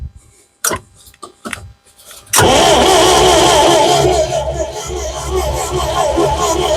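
An old Valmet forklift engine with the choke pulled cranks in a few short bursts, then catches and runs at a loud, rough idle close by.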